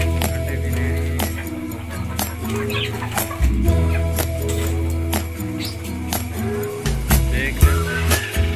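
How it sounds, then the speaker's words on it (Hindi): Golden Misri hens, which are laying eggs, cluck repeatedly at close range with scattered calls over a steady low background hum. There is no clear speech. "गोल्डन मिश्री ब्रीड है ये, अंडे भी दे रही है।"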